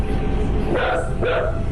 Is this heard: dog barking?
yes